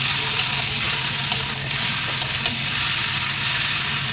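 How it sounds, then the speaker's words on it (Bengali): Meat and potatoes with fried onions sautéing in a pan: a loud, steady frying hiss broken by a few light knocks and scrapes of the stirring spoon, with no voice. "ভালো করে মাংস আর আলুটা কষিয়ে নেওয়ার পর বেরেস্তাটা দিয়ে আর একটু কষিয়ে নেব।"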